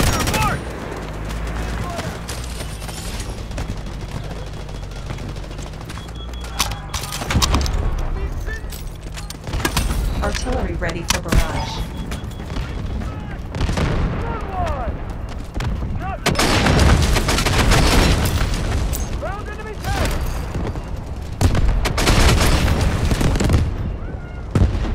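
Incoming artillery and heavy gunfire in the Delta Force video game, with loud booms and dense rattling bursts rolling through a busy battlefield while voices talk over the fighting.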